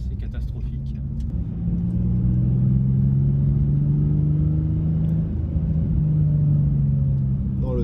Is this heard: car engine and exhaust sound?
yes